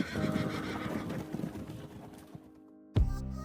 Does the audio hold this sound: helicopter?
no